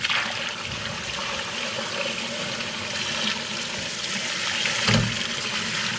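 Water running steadily through a gold prospecting sluice machine while material is rinsed, a continuous close rushing trickle with a brief splash near the end.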